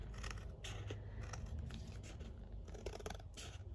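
Scissors snipping through a restaurant reward card, a quiet series of close, irregular cuts and crisp crunches with no talking.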